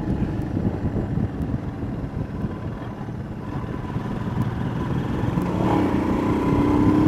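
A Royal Enfield Himalayan motorcycle downshifts and accelerates into a corner, its engine a steady low rumble under wind buffeting that swells toward the end as revs climb.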